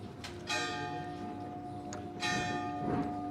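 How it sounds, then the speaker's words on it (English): A church bell on the Isle of Capri tolls twice, each strike ringing out clearly and then fading in a long hum over faint background noise. "The bell tolls"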